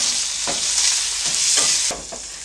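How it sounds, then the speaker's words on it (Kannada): Paneer frying in hot oil for paneer biryani, a bright continuous sizzle with a few soft utensil taps stirring the pieces, close and fairly loud, without talk. "ಇದನ್ನು ಸ್ವಲ್ಪ ಫ್ರೈ ಮಾಡ್ಕೊಳ್ತೀನಿ"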